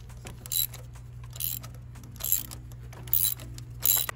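Ratchet turning a 14 mm long socket on extensions to remove a car's spark plug, likely on a seventh-generation Maxima, gives five short bursts of clicking pawl sounds at close range, separated by quiet pauses.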